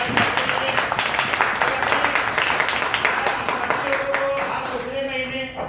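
A crowd applauds loudly and steadily for several seconds, with voices mixed in and the clapping thinning out toward the end.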